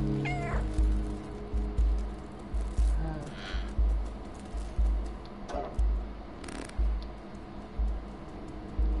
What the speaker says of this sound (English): The cat is thirsty.